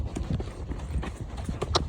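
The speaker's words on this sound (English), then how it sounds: "We'll just gather my reins and we'll just pop into a little canter in a minute." Hooves of a horse being hacked out alone clip-clop steadily on a ride moving toward a canter, a close rhythmic beat of regular hoof strikes with faint background rumble and no talking.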